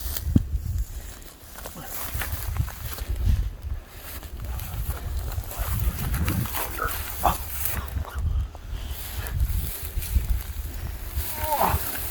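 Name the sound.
wild boar (hog) grunting during a Texas hog hunt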